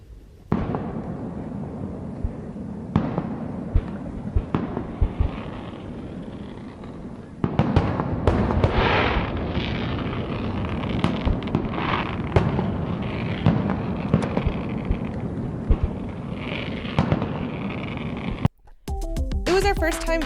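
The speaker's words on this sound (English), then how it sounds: "It's the 4th of July. All you can see is silhouettes of Theron and some boats. And the fireworks will be starting soon." Fireworks bursting on the 4th of July over water near anchored boats, a steady run of booms, pops and crackles at middle distance, with voices murmuring throughout and a sudden loud close rumble at the very end.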